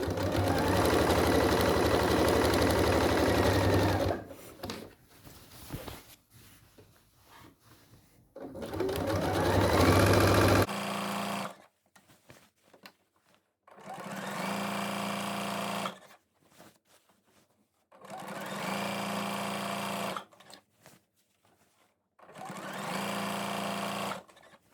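A sewing machine stitches an elastic waistband on a skirt in several bursts of rapid whirring, separated by pauses where the fabric is shifted, heard close with no talk.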